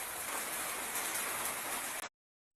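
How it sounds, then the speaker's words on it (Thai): Steady rain falls in a small garden in Chi Bun Rueang district, a dense even hiss that holds for about two seconds and then cuts off abruptly. "เวลานี้ฝนตกนะคะ ที่อำเภอชีบุญเรืองจ้า"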